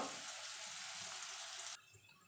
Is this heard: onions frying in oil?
yes